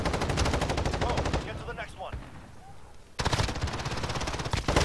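Rapid automatic gunfire from the Call of Duty: Modern Warfare video game, loud and close in dense bursts that drop away into a brief quieter lull before the shooting resumes.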